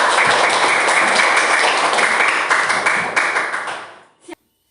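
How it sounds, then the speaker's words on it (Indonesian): Students in a classroom give a burst of steady, dense clapping close by, which holds for about four seconds before tapering off and stopping abruptly. "Tepuk tangan dulu buat Fajar."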